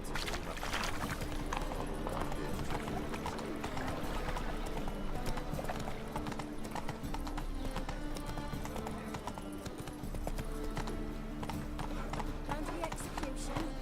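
Roach the horse trotting in The Witcher 3: steady, rhythmic clip-clop of hooves, close and continuous, under a voice talking and ambient game sounds.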